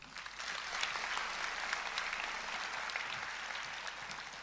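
Audience applause at an Indian high school convocation ceremony, a steady wash of many people clapping in a large hall, continuous and fairly distant, with no talk over it.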